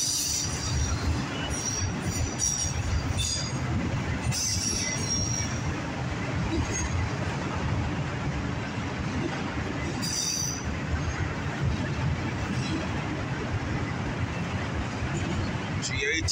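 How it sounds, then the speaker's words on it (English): A CSX and Norfolk Southern mixed freight with CPKC autoracks and other railcars rolls past close by, its steady heavy rumble of wheels on rail continuous throughout, with occasional wheel squeals and brief metallic clanks. "Another CPKC autorack."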